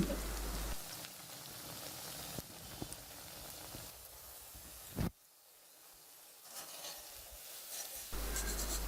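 Lentil and drumstick leaf fritters fry in hot oil with a steady, close crackling sizzle, broken by a few soft clatters and a brief quieter dip midway; no one speaks.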